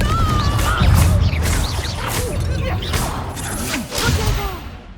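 Confringo blasting curse cast in the Hogwarts Legacy video game: a loud whooshing burst with crashing impacts and thuds, dense game effects layered throughout a busy battle.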